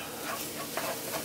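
A spoon stirs a vegan vegetable lasagna mixture after a teaspoon of vinegar goes in, giving soft close scraping and swishing over a steady hiss, with no talking.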